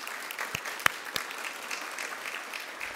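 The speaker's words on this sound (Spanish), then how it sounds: "Les pido un aplauso" An audience applauds during the opening ceremony of a book and history fair, steady clapping at a moderate distance with a few sharper individual claps standing out, no speech over it.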